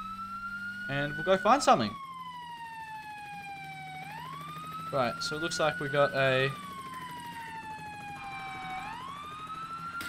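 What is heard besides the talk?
fire truck siren in Roblox ERLC video game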